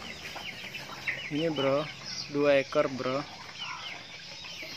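Hen clucking in a backyard coop of free-range chickens, a few close, bursting clucks in the middle of the clip while someone talks casually over and around them.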